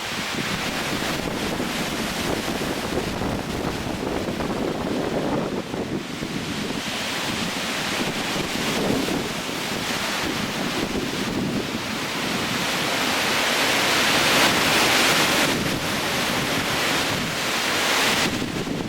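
Strong gale-force wind roars across the Irish coast, blowing steadily and loudly into the microphone for the whole stretch, with surf rumbling beneath and gusts swelling toward the end; no voices.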